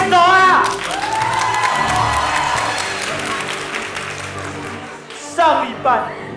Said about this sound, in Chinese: 拍手啊！